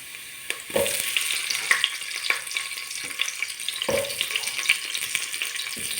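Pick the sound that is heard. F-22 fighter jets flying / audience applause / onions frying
onions frying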